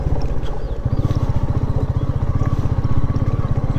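A Royal Enfield Meteor motorcycle engine thumps in a loud, rapid, steady beat close by, labouring at low speed over boulders on a rough mountain road, with rough, uneven undertones.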